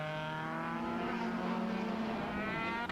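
A Formula BOSS race car limps past on the Mondello circuit, its engine a loud, steady, buzzing drone with a sustained harmonic whine that holds through the pass without fading.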